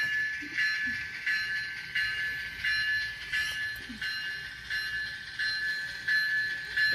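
An N scale model train engine running on a layout, with a steady ringing bell and a soft rhythmic whooping engine sound pulsing beneath it, fairly close and continuous with no talk.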